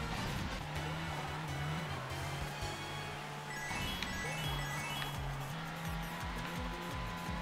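A kart in Mario Kart 8, racing in the 100cc Crossing Cup, drifts hard with a steady engine drone and sustained tire squeals layered on top, continuous and fairly close.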